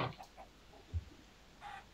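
A chicken in the Minecraft video game clucks in a few short, separate bursts, loudest at the start and again near the end, with brief gaps of quiet between them.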